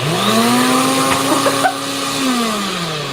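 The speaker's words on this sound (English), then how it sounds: "Who wants the sound of the blender?" A NutriBullet blender runs steadily and loudly with a whining motor hum that rises and dips slightly in pitch, with faint rattles mixed in.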